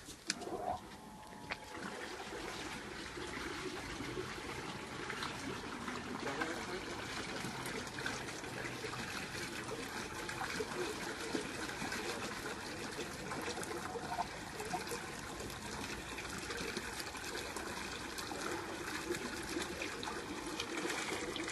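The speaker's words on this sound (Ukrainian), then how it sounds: "Так, а ну включи. Включаємо насосик." A small pump circulates sawdust-thickened drilling mud through a water borehole, giving a steady watery trickle and churn that runs continuously at moderate level without a break.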